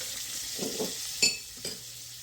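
Butter hits hot oil in a frying pan while cooking chicken fried cubed steak, a soft steady sizzle with a few brief stirring scrapes and pops, close and fairly quiet.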